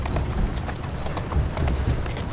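Horse hooves clip-clop steadily on a street in Assassin's Creed Syndicate, a close, continuous rhythm of hoofbeats over low rumbling ambience, no speech.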